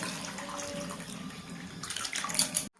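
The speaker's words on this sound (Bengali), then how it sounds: "এবার এটাতে জল ঢেলে দিই।" Water is poured from close by into a cooking pot of ghugni, a spiced dried-pea curry, making a splashing, gushing pour that grows louder near the end and then stops abruptly.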